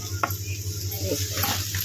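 Boiled munja palm-fruit peel is stirred into a golden-brown fried base in a pan, soft scrapes and light sizzling in brief bursts over a low steady hum.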